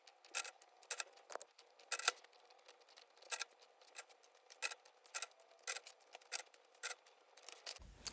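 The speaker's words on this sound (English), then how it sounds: "And we'll just secure it on with our tape to make sure it doesn't shift" Clear tape pulled and snipped to hold a see-through plastic fan stencil in place, giving a series of sharp, crisp clicks and short tearing snaps at irregular intervals, close and fairly quiet against near silence.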